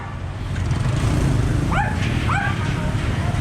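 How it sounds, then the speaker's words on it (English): A vicious dog beside an empty lot on a busy Saigon street gives two short, sharp barks about half a second apart, set back at moderate distance under steady street and traffic noise. "Dog is a vicious dog."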